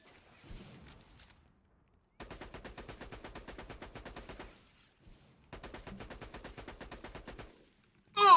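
Video game gunfire from the 1Life tournament, two rapid automatic bursts of evenly spaced sharp shots a few seconds apart, moderately loud, with quiet gaps and no talk.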